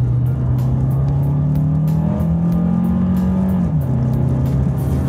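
Turbocharged gasoline engine of a 2025 Kia Carnival Turbo Hybrid revving steadily, a sustained drone that rises slightly and dips near the end, heard close without talk.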